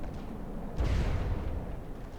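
In From The Depths, a cluster missile volley strikes with a deep, rumbling boom that swells abruptly and then fades into a low, noisy roar.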